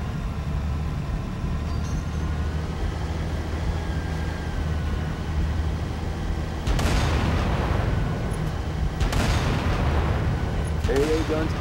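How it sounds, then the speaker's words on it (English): Anti-aircraft guns fire in the Halo: Reach video game, a dense, rumbling barrage beneath a steady low drone, with two sharp, louder bursts later on. "AA guns dead ahead, Lieutenant."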